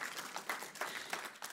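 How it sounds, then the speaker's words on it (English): Faint, brief applause from a church audience, a patter of a few claps rising and falling in quick bursts, quiet and slightly distant. "You can give them a round of applause."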